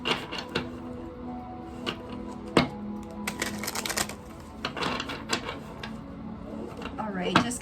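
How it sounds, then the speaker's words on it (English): A tarot card deck is shuffled by hand, giving a run of crisp papery riffles and sharp clicks close to the microphone, with louder bursts at intervals and a faint low hum beneath. "Let's go ahead and get a few shuffles for the tarot deck"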